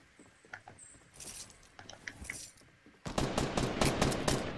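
In the video game Fortnite, scattered clicks and mechanical clatter give way to a loud, dense run of rapid gunfire that continues to the end.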